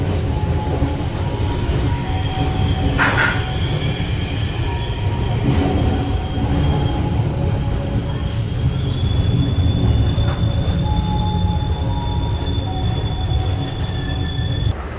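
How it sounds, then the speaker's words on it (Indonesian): A passenger train hauled by two BB 203 diesel locomotives departs Teluk Mengkudu station in Indonesia, rumbling steadily close by, with metallic wheel squeals and high sustained screeches over the low mechanical roar, no voices. "Kereta api Putri Deli diberangkatkan kembali dari stasiun Teluk Mengkudu."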